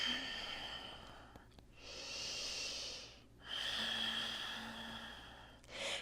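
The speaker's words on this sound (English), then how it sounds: "Full deep breathing here." Slow, deep breaths during a yoga flow, two long airy inhale-exhale cycles close to the microphone, quiet and unhurried with no talking.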